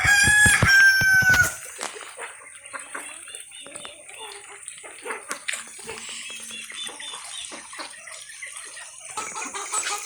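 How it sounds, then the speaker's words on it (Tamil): Chickens at a farm in heavy rain in Anaikulam, a loud rooster crow opening close up, then a dense patter of rain with scattered faint clucks and a voice speaking underneath. "நம்ம இந்த 2 கோழியும் முன்னாடி உள்ளது."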